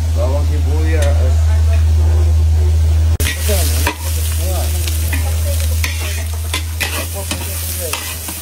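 Garlic and onion frying in low-grade cooking oil, a loud, continuous close sizzle with scraping and stirring clatter, interrupted briefly as ingredients go in, while people talk nearby over a low steady hum.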